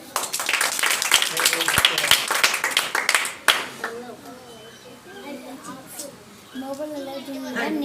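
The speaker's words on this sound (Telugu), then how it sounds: "గట్టిగా క్లాప్స్ కొట్టండి" An audience claps loudly and rapidly at a church gathering, a dense burst of hand claps lasting a few seconds before fading into a speaker's voice.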